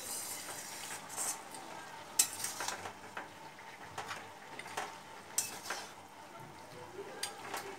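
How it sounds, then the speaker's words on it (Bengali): Ash gourd curry with fish head being stirred in a pan: steady scraping and stirring strokes with soft sizzling beneath and a few sharper utensil knocks against the pan, close and moderately quiet. "ভালো করে মিশিয়ে নেব।"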